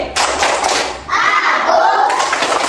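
Brisk rhythmic hand clapping in short patterned bursts, close and loud, with children's voices chanting along in a classroom concentration clapping game.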